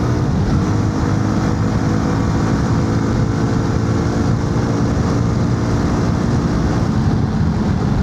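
A New Asia Titan Adv 300 motorcycle cruises in sixth gear at about 4000 RPM on a rainy road, giving a loud, constant engine drone mixed with heavy wind rush and no talking.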